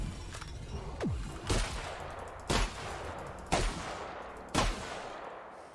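Gunfire in The Outer Worlds: five or six sharp, evenly spaced shots about a second apart, fairly close and loud over a low background hum, with no talk.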